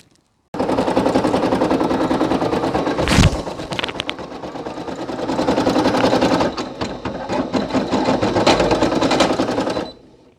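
A Brother PE800 embroidery machine stitching a patch runs in a fast, steady mechanical rattle for about ten seconds, with a brief louder clack near the start and slight shifts in pace.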